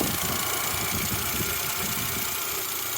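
Salvaged R50 Mini Cooper engine idling smoothly, a continuous steady mechanical hum with even low rumble and no pauses, heard up close.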